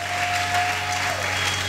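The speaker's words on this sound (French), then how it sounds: "Est-ce que nous pouvons acclamer très fort?" A large audience applauding and cheering loudly, a steady dense wash of clapping and crowd noise that holds at the same level from start to finish.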